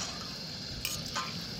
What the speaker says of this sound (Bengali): পকোড়াগুলো ভাজার সময় অনবরত নেড়ে চেড়ে ভেজে নিতে হবে।